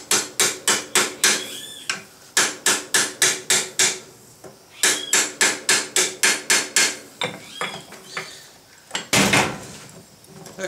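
Rivets on forged bolt jaw tongs are hammered in quick bursts of sharp ringing metal strikes, each run of six to eight blows separated by short pauses.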